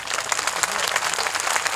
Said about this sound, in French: L'applaudissement n'est pas pour moi